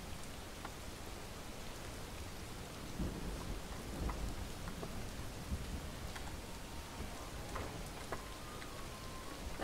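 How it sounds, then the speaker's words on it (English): Steady heavy rain pours down in the Relics of Hyrule game world, a loud continuous hiss broken by a few low rumbles of thunder, with no voices. "Rain is like really loud."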